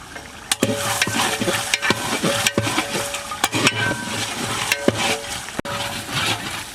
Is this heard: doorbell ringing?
no